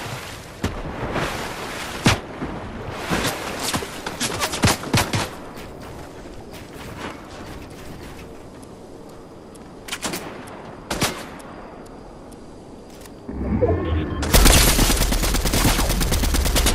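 Bursts of gunfire in the Fortnite video game, sharp rapid shots clustered in the first five seconds with a few more isolated cracks later, followed by a loud dense burst of game sound at the end.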